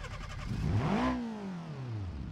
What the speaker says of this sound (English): So the engine sound for this is reused from the Vivas.